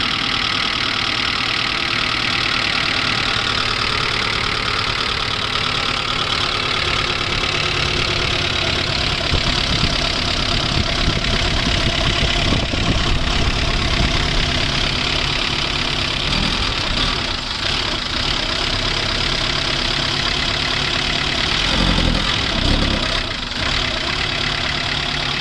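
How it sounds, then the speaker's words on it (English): A 2008 Maruti Gypsy King 413W with a Euro 3 engine idles steadily, a smooth, even mid-to-low engine hum with a faint knocking rhythm that holds constant and close throughout, with no talking. "right now I'll be starting the vehicle and showing you the sound of the vehicle"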